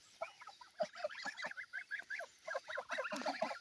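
Geese honking repeatedly in a noisy flock, a steady stream of overlapping nasal calls close by with no talking.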